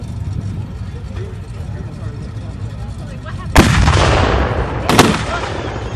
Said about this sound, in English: Now we're starting to lay cover fire.